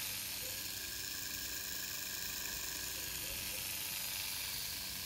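Continuous smooth whir of a custom rotary tattoo machine with a 3.5 millimeter stroke, running steadily and close up with no pauses.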